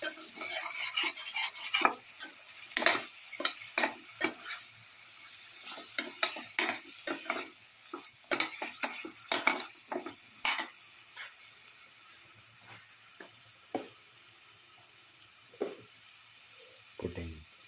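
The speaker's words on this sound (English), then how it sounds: "Start with the sauteing." Ingredients for a garlic beetroot chicken casserole are sautéed in a pan, with a soft sizzle under frequent close scrapes and stirs of a utensil against the pan that thin out toward the end.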